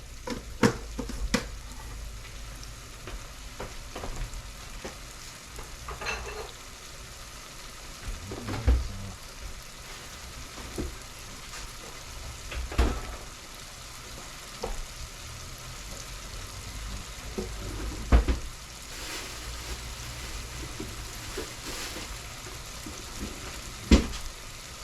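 Spicy snapper fish nuggets sizzle steadily in a pan for a long stretch, with a soft continuous frying hiss broken by occasional clinks and scrapes as they are stirred.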